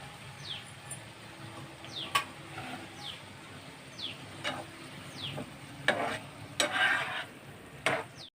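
Onions and ivy gourds fry in a pan with a quiet steady sizzle, broken by sharp spatula taps and scrapes that grow busier toward the end, while faint bird chirps sound in the background.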